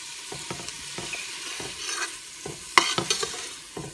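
Onion softening in a pan for camarones a la diabla crackles and sizzles beneath repeated scraping strokes of a spoon stirring through it, closing with a brief metallic clink.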